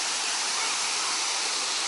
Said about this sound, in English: There's a waterfall here. I'm not sure if it's man-made.